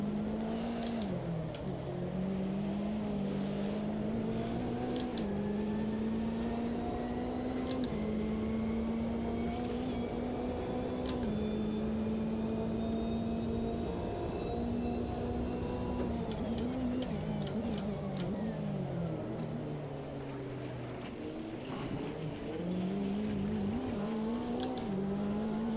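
Race cars, a Porsche among them, screaming around a circuit in the sim racing game Automobilista, one engine droning steadily up and down through gear changes with faint tire squeal and other cars nearby, no talk.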